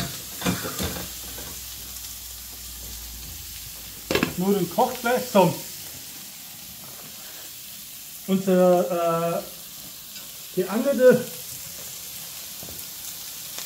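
Fish, a home-caught salmon or char, searing slowly in a pan gives a soft, steady background sizzle, with someone talking over it in three short bursts.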